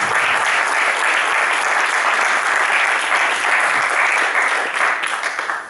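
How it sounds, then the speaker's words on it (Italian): Audience applause at a press conference for the Tutankhamon exhibition, a loud, continuous roar of many hands clapping together that holds steady and then thins out near the end. "permettetemi di chiedermi ancora una volta un applauso per quest'opera"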